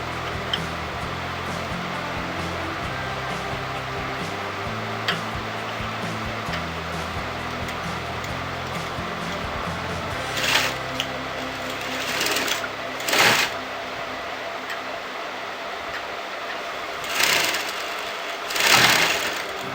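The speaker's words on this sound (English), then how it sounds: "now I'm going to sew this together." Sewing machine stitching a katori blouse, a steady close whir that runs unbroken, with a few louder bursts and soft handling noises near the end.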